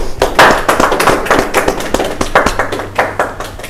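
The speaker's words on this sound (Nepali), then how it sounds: "ल एकचोटि ताली बजाइदेऊ" An audience in a studio show claps hands in applause, giving a loud, dense run of sharp claps that rises and falls in bursts for several seconds.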